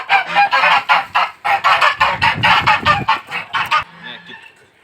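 Geese on a Kazakh farmyard honk loudly and repeatedly, a close burst of rapid overlapping calls that tapers off into a lone softer honk at the end.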